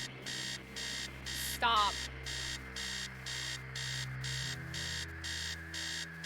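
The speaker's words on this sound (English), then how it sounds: "Upstairs, the sound of an alarm clock blaring." In the video game Stories Untold, an alarm clock blares in steady repeating pulses of loud beeping. A single short spoken word cuts through partway, over a low background hum.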